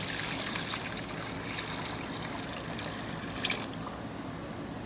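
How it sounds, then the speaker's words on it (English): Water poured into a pot of collard greens in a home kitchen, a steady close trickle and splash running throughout, with no talking. "So I'm going to add to this some water."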